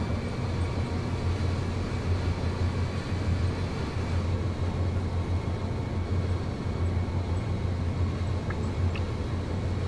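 Amtrak Dash 8-32BWH diesel locomotive from Train Simulator 2017 running under load, a steady, loud low engine rumble with rail noise that holds unchanged throughout.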